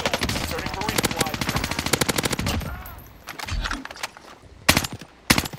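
Gunfire in the Warzone video game, with rapid automatic bursts packed tightly through the first few seconds, then a pause and two sharp, loud single shots like sniper fire near the end.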